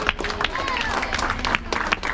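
Applause from a crowd at a family celebration honouring the parents, heard as a steady patter of clapping with sharper claps standing out, under a voice speaking over it.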